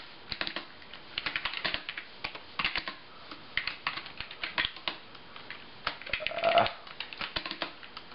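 Original 1998 Apple iMac keyboard in strawberry red being typed on, a close run of quick plasticky key clicks in uneven bursts with short pauses, no talking.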